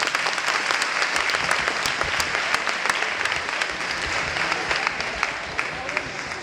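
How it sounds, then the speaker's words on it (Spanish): An audience applauds the candidates before a debate, a loud continuous round of many hands clapping with distinct sharp claps standing out throughout. "un fuerte aplauso a los candidatos que vinieron a hacernos el aguante con la actividad"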